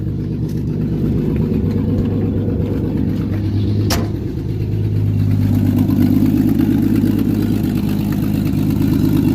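A Ford Mustang engine with a loose downpipe runs loud and close, a deep steady idle rumble with an exhaust leak that swells slightly partway through, alone with no voices.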